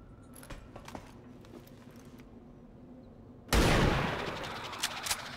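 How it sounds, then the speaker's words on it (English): Gunfire aimed at an alien in the XCOM 2 video game: a sudden loud burst of shots erupts after a quiet stretch, with a sustained crackling wash and a few sharp reports trailing off. "Shoot the alien."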